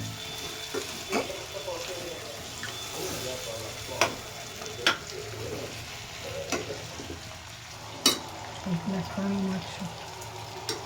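Onion and potato curry being stirred in a pan, a soft continuous sizzle with scattered scraping knocks of the spoon at irregular intervals, close and moderately quiet, with no talking.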